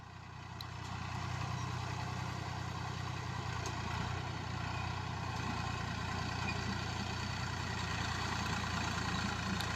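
A tractor drives a rotavator slowly through farm soil, its engine giving a steady, fairly loud diesel drone that holds constant throughout with no pauses or voices.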